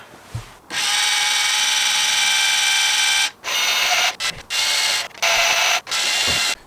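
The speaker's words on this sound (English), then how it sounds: "Okay, so I'm convinced the motor for the adjuster is working." The headlight adjuster motor on a Porsche 944 S2 whines with a steady electric buzz in several runs, a long one followed by shorter start-stop bursts, close up with no talking.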